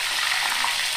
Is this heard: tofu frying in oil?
yes